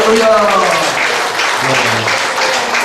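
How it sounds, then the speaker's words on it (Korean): Seminar audience at a Korean church Bible seminar breaking into sustained, loud applause that fills the whole moment, with a voice speaking over the clapping. "하나님 앞에 박수로 영광을 드리겠습니다"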